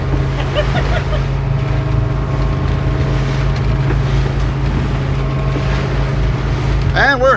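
A boat cruises through rough open sea on the run from Wrightsville Beach to Beaufort, its steady engine drone and rushing water continuous and loud, with wind buffeting the microphone and a brief burst near the end.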